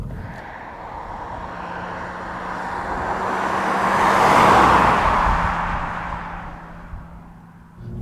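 A 2005 Subaru Legacy 3.0R Spec B manual wagon pulls away, its engine and road noise swelling steadily to a broad roar midway before easing back down, with no talking.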